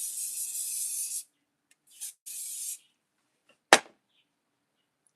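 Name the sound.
hair spray being sprayed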